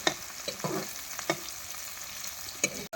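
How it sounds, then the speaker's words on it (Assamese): Potatoes and onions fry in hot oil with a soft sizzle, broken by several sharp scraping clicks as a spatula stirs the pan. Close and with no talking. "আলুটো লগতে ভাজিছোঁ"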